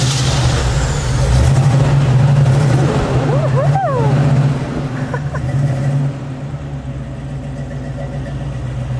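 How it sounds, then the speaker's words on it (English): A Buick Grand Camino custom with a roughly 200-horsepower 305 Chevy engine runs close by with a deep, steady idle rumble that swells and then settles lower, with a brief squeal partway through. "It sounds really good for just basically a 200 horsepower 305 Chevy."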